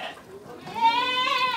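Goats and sheep eating feed made from market waste give a loud, wavering, drawn-out bleat close by, rising after a brief quieter moment with faint background sounds.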